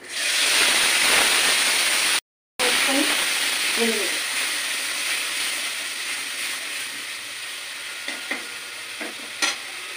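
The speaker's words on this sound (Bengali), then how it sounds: "এবার আমি পেঁয়াজ বাটা, রসুন বাটা আর একটু আদা বাটা দিচ্ছি।" Onion, garlic and ginger paste sizzles loudly in hot oil after kalonji tempering, a dense frying hiss that briefly cuts out, then continues steadily with occasional stirring clinks and pops.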